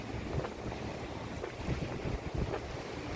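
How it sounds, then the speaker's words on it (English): Waves of the Gulf of Thailand wash ashore near a seaside restaurant at Bang Pu Mai, a dense, continuous rumble and surge mixed with heavy wind buffeting the microphone, with no voices. "The wave and sounds are so harmonic"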